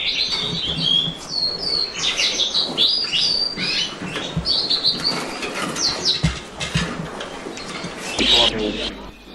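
Show birds at a bird show give bright, repeated chirps and tweets with rustling wing flaps close by, while people talk over them.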